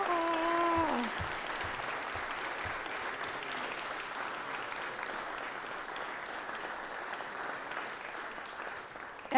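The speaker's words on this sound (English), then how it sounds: "I don't know if that's a clap with good riddance or what that clap is for" Applause fills a state Senate chamber during an afternoon session, starting right after a brief voice and continuing steadily to the end at moderate level.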